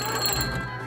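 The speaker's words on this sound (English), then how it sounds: "Just take it off the hook, you crank the handle, that is going to ring the bell at the operator." Bell of an early hand-crank telephone in a California museum, a brief, steady metallic ringing with sustained overtones, loud and close.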